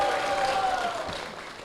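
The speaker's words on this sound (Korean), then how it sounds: "담임 목사님과 교회를 위해서 힘찬 박수 부탁드리겠습니다" A church congregation gives a brief burst of applause, moderately loud and fading out over under two seconds, with no voices over it.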